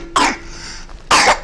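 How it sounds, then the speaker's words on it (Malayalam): A young child coughs in two separate short, hoarse bursts close to the microphone, with a quiet pause in between. "അയ്യോ, കുട്ടിക്ക് ചുമയാണ്,"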